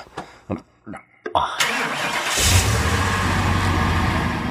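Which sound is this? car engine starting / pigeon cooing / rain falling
car engine starting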